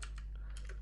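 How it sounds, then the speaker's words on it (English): Quick, faint clicks of typing on a computer keyboard, a handful of keystrokes in rapid succession over a low steady hum. "after that what we want to type is spawn"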